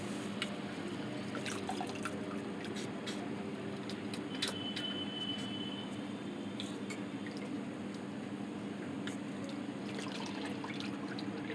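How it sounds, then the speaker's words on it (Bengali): Water drains and drips from freshly washed flattened rice (chira) in a home kitchen, a steady wet trickle with scattered small drip ticks over a constant background hiss, with no speech. "ধুয়ে জল ঝরাবো"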